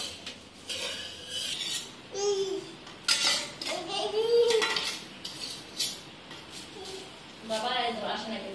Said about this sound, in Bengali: বাটির মধ্যে খুন্তি দিয়ে রান্না করতেছে মাইশান।